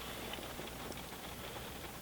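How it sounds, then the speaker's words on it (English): Light rain beginning to fall over a campsite in thunderstorm weather, a steady soft hiss of drops pattering evenly throughout, with no voices. "Just started raining."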